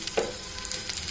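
Coriander seeds, cumin and flax seeds frying in a pan for tomato-coriander chutney, a soft close sizzle with faint crackles.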